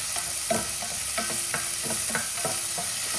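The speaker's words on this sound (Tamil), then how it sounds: "இதுல ஒரு பெரிய வெங்காயம், கொஞ்சம் கருவேப்பிலை, இது கொஞ்சம் வதங்கட்டும்." Sliced onion, curry leaves and green chilli sauté in hot oil in a pan for a tomato kurma, a steady bright sizzle broken by rhythmic scraping stirs of a spoon, close and continuous with no talking.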